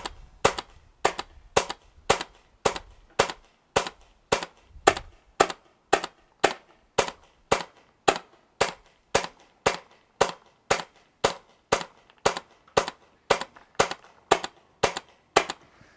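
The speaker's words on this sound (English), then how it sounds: "I'm gonna shoot one or two clearing shots, and then we're gonna shoot 30 shots to get the new velocity reading" Tippmann Phenom paintball marker fired in a steady string of about thirty sharp, evenly spaced shots, each a loud crisp pop close to the microphone, with no talking.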